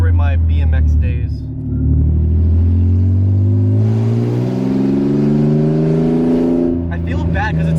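A car fitted with a new exhaust revs hard up close, its loud engine note climbing and holding before falling back, with voices briefly heard around it.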